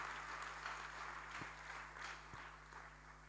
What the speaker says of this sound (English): Round of applause once more